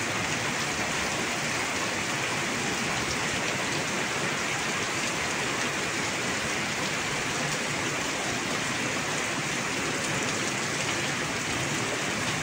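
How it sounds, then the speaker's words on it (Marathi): Strong, continuous rainfall in Beed after an hour of downpour, a uniform thick hiss of raindrops striking ground and roofs, loud and unbroken for the whole stretch, with no one talking. "जवळपास 1 घंट्यापासून पाऊस चालू आहे जोरदार."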